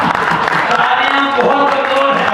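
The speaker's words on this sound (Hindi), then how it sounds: "तालियां बहुत जोर है।" Dense, continuous clapping from the crowd at a Hindi kavi sammelan poetry gathering, loud and sustained, with a voice running beneath the applause.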